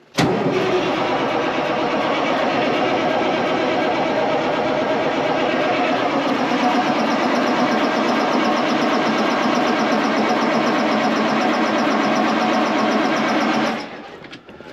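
A cold K100 truck engine cranks over steadily without catching, a loud continuous churning drone that holds for about fourteen seconds before cutting off abruptly.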